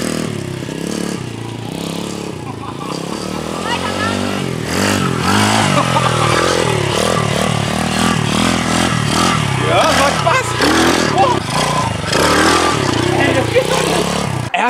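Kids' motocross dirt bike with a small engine, revving loud and close throughout while riding, with a steady buzzing drone and rising throttle, and people talking and shouting over the engine.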